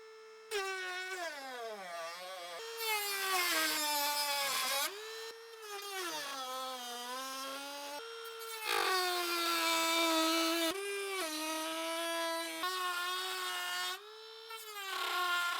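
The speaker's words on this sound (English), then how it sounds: "You just go around the whole headlight with the Dremel, make sure it's completely off." A Dremel rotary tool cuts around the lens of a 2008–2016 Volvo V70/XC70 headlight, giving a loud, high, whining buzz that rises and falls in pitch in several long passes with short pauses.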